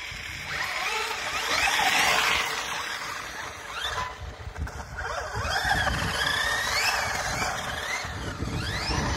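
A vehicle engine revs hard at full throttle on ice, the roar rising and falling as it approaches and passes close by, with rising whine sweeps and a broad rumble throughout.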